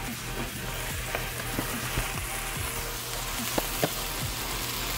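Spiced food sizzles and crackles steadily in a hot frying pan, with scattered sharper pops over a constant hiss and no talking.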